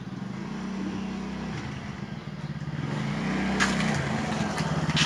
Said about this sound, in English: In her rattly old bike, which I have to fix